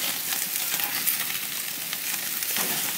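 Chicken sizzles steadily on a gas grill at night, a dense continuous crackle and hiss that stays close and even throughout with no talking.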